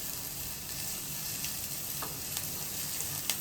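Chopped onions fry on high heat in a pan while being stirred, giving a steady, close sizzle with a few soft scrape ticks of the spoon against the pan.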